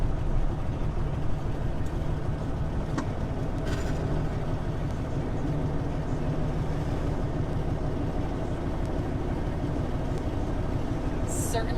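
Semi truck engine rumbling low and steady as it downshifts and slows for a red light on a Northwest Ohio road, heard from inside the cab with a voice talking over the continuous drone.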